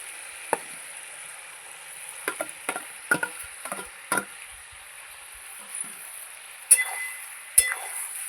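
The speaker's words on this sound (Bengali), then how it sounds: "পেঁয়াজটা দিয়ে একটু নেড়ে চেড়ে নেব" Onions are stirred into chicken frying in oil over a wood fire: a faint, steady sizzle under irregular clacks and scrapes of a spoon against the pan, with two sharper knocks toward the end.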